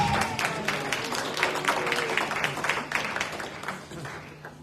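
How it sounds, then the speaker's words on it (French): A church congregation at a Sunday service applauds a baby with steady, dense clapping that fades slightly toward the end, with a few voices underneath. "Applaudissons le bébé"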